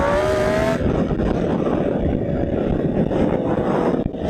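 Sustained raspy exhaust roar from a 2020 Yamaha R1 sport motorcycle with an aftermarket exhaust, loud and close, with a steady engine drone throughout and a brief higher tone at the start.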